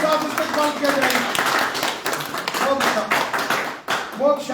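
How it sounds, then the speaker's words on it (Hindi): Audience clapping at a party headquarters joining event welcomes a new member, a burst of applause mixed with someone talking over it. "जोरदार तालियों के साथ इस्तकबाल किया जाएगा।"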